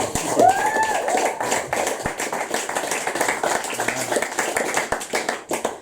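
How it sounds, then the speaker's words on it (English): A small audience at an open-mic poetry reading claps in scattered, uneven bursts, close by and moderately loud, thinning out toward the end. "More applause for Maren."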